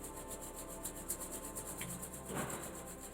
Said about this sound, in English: Rub your palms nicely to generate good amount of heat.